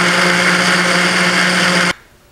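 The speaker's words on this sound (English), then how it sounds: "I'm going to puree some more because I'm not up to the 5 cups yet." A blender purees strawberries for jam in a loud, steady high-pitched whir that runs alone and then cuts off abruptly near the end.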